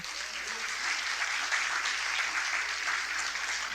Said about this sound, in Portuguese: Uma salva de palmas para esse casal tão amado